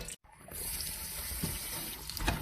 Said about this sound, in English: So we're going to rinse this cabbage and leave it in a colander for a bit.